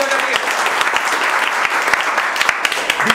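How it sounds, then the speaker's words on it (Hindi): Loud, close clapping from an audience at a mobile chip-level repair training session, dense and steady, with a few sharper individual claps standing out. "मेरे साथ में एक बार दीपा सर के जोरदार तालियां।"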